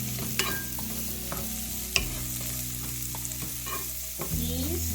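Egg scramble with vegetables and green onion stir-fried in a pan, a soft steady sizzle broken by scrapes and taps of the utensil, close and alone.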